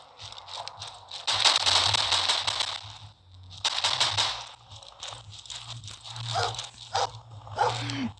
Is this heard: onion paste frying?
no